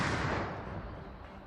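A loud, heavy blast from a battalion artillery gun, with a long rumbling decay, a single booming shot fading over a second or so.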